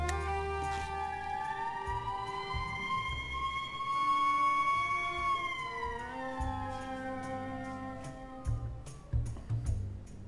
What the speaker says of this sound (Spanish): Encender la sirena, parar delante de él